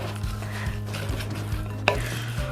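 Steady, rhythmic stirring and squelching as garlic and lemongrass are mixed into raw Vietnamese honey garlic sausage mixture in a bowl. A low, regular pulse runs throughout, with one brief clink of utensil on bowl.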